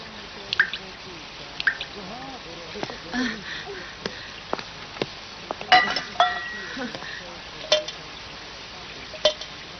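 Rainwater dripping through a roof leak indoors during heavy rain: scattered, irregular drips and small splashes at close range, with faint movement noises in between.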